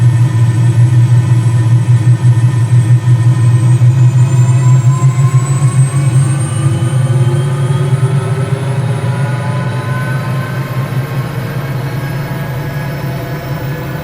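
A Bell 206 helicopter in a Microsoft Flight Simulator game runs its engine, a steady loud low drone with a whining turbine tone that slowly climbs in pitch, heard alone without talk.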